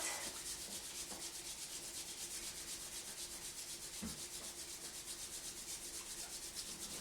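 Palms rub steadily over the ears during a qi gong self-massage, a close, continuous rhythmic friction with no talking.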